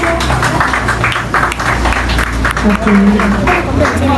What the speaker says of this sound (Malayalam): കൈയടിക്കുക കൈയടിക്കുക